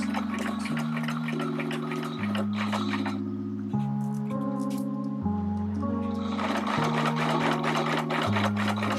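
A sewing machine runs a hoodie seam in a continuous whirring hum, speed shifting in steps with a brief slowdown midway, close and steady with no talking.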